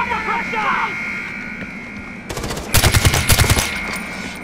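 Automatic weapons fire in a Far Cry 4 firefight, a sharp burst of rapid shots crackling loud and close after a stretch of quieter background ambience and shouting voices.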